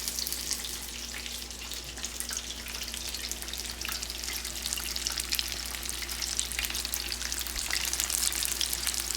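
Fish deep frying in hot oil gives a steady, close crackling sizzle with dense popping bubbles and a low hum underneath, continuous and fairly loud.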